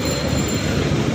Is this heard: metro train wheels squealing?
yes